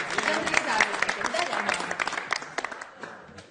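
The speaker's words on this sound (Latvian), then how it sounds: "dāmas un kungi, vēlreiz aplausi!" Audience applause at a tenth-anniversary jubilee show: a dense wash of clapping runs throughout and tapers off near the end, with voices talking over it.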